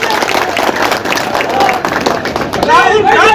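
A crowd at a political election rally claps and cheers, with loud continuous clapping mixed with shouting and crowd babble, and voices rising near the end.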